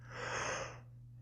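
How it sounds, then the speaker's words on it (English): A person gives a single drawn-out, breathy yawn, close and fairly soft, rising and then fading over about a second with no words. "That was a real yawn."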